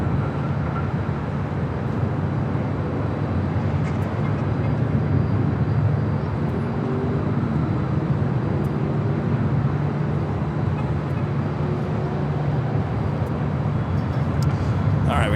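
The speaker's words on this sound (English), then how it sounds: "A350 1000 taking off there on the south side" An Airbus A350-1000 jet taking off from the south side at LAX, a steady low rumble that stays fairly distant and even, with a faint voice talking over it.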